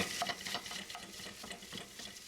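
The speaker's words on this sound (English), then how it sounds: "We're going to throw in our breakfast sausage and then start breaking it up." Breakfast sausage sizzles and frys in a pan while a plastic chopping tool scrapes and stirs it in quick, busy strokes, close and steady, with no talk.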